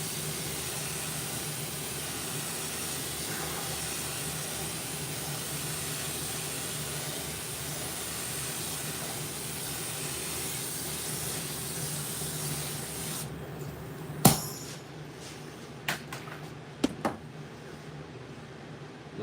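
A spray gun lays coats of paint onto a pre-flaked skateboard for custom lowrider patterns, a steady close hiss lasting about thirteen seconds, then cutting off to quiet with a few sharp clicks and knocks.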